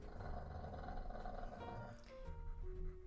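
A bulldog in a tantrum growls and grumbles low and continuously at close range, rising and falling in throaty rumbles.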